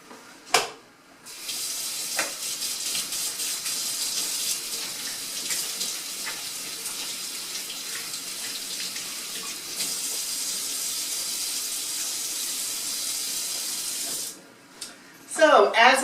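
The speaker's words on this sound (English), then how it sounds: "I'm gonna wash my hands and we'll get started." A kitchen sink tap runs in a steady, hissing stream during handwashing, opening with a splash and shutting off near the end with a few clatters; no one speaks.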